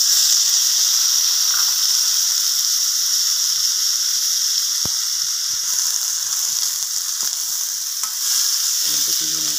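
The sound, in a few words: tomatoes sautéing with garlic, chili and onion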